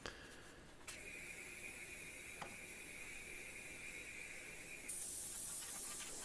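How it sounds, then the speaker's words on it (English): Compressed air hisses steadily against a sand casting pattern for a V8 emblem, clearing off loose dry sand, broken by a couple of sharp clicks and a louder, brighter blast near the end, with no voices. "I'll blow off the pattern so there's no loose dry sand up against it"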